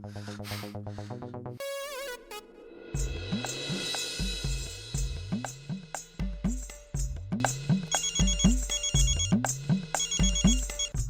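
A phone ringtone plays in repeated melodic bursts, loud and close, cycling over and over without any talking.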